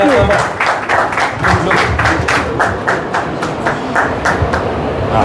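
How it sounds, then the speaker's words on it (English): A small audience at an inauguration ceremony claps in a steady, rhythmic pattern of fairly near, moderately loud hand claps lasting several seconds, with some murmuring underneath. "Can we have a round of applause, please?"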